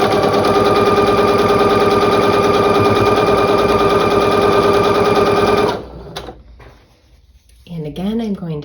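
A sewing machine runs a fast, steady stitch along a quarter-inch quilt seam for almost six seconds, loud and close, then stops; a few faint handling clicks and a short burst of talk follow.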